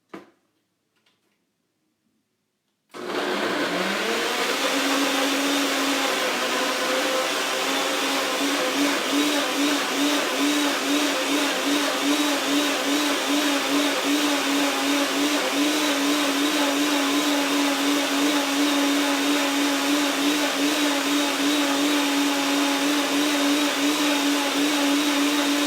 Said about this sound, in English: and then we're going to throw this in our blender